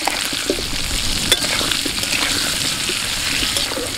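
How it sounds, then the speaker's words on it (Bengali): Potatoes fry with salt and turmeric in a wok, giving a dense, close sizzle with bubbling oil and a few light stirring clinks, loud and steady throughout. "একটু লবণ দিয়ে দিচ্ছি আর অল্প একটু হলুদ গুঁড়ো দিয়ে আলুটা ভেজে নেব।"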